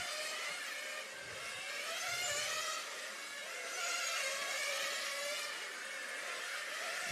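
High-pitched whining engines of 1/8 scale nitro RC race cars fill a track at a European championship practice, a steady buzzing chorus rising and falling as the cars circulate at a distance.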